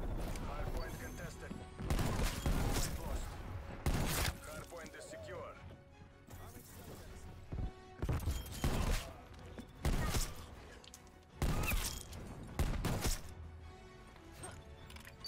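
PPSh-41 submachine gun bursts in Call of Duty Cold War, fired in several short, sharp volleys at fairly close range, with a voice talking throughout and other game noise in the background.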